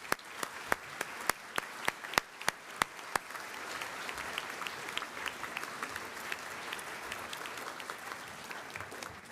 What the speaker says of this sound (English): let's give the cast and the crew a round of applause